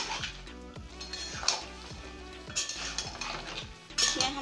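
A cooking pot of green tomato sweet-and-sour curry gets clattered as a lid is handled and set on top, with several metallic clinks and scrapes at close range over a faint sizzle.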